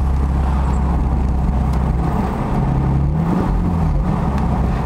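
A 2009 Infiniti G37S with an MXP exhaust and new B-pipes revs while driving, a loud, steady engine drone with a brief rise in pitch partway through and no talk.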